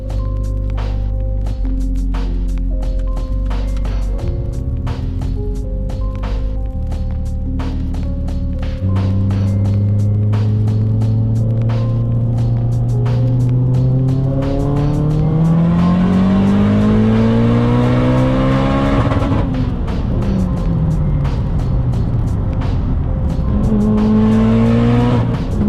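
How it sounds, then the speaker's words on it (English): A car pulls hard through third gear on the road, the engine revving loudly and climbing steadily in pitch through the gear, close to the listener and with no voices. "let's go do this third gear pull"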